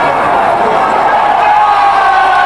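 Stadium crowd at a 1993 rugby league match between Keighley Cougars and Batley, a loud steady roar of many voices filling the whole moment, with no single cheer standing out.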